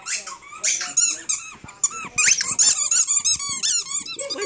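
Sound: dog playing with a loud squeaky Christmas toy

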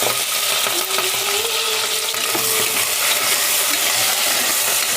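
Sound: green chillies and onions frying in oil

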